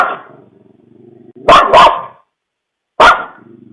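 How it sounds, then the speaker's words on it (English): A dog barks sharply three times nearby, two quick barks together then one more after a pause, with a low growl beforehand. "we can hear the dog barking at something"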